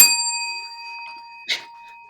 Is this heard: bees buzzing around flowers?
no